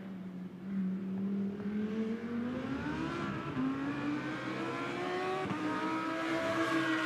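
A GT2 race car at the Spa circuit accelerates past, its engine note climbing steadily in pitch through the gears with a continuous rising whine, moderately distant, with no talking.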